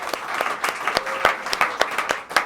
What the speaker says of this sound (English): And a big round of applause for Helen.